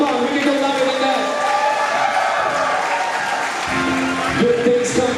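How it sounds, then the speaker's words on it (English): An audience at a Thanksgiving celebration for Santo Niño applauds for a group of women, steady clapping mixed with crowd noise and some cheering, with voices and musical tones sounding over it throughout. "Let's give the ladies a big round of applause, y'all."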